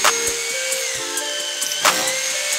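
Steady high whine of a power drill boring holes into a hollow interior wall, close and loud, with small bumps and clicks as the bit bites.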